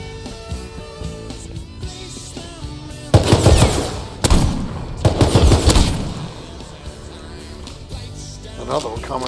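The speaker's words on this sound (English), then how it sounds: "Dude, this thing has like no spread. That's what you like to hear in a shotgun." Loud shotgun blasts fire in the survival game Rust, a few heavy booming bursts in quick clusters over a bed of game background sound, with a voice speaking around them.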